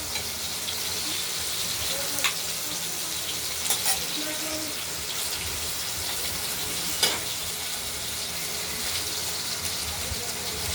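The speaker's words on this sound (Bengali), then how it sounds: "আলুগুলি ভাজা হচ্ছে।" Potatoes frying in a pan make a continuous bubbling sizzle, with a few brief scrapes and clinks from stirring now and then; the sound holds steady and close throughout.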